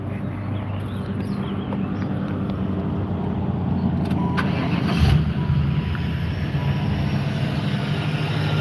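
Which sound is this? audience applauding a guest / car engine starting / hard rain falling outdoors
car engine starting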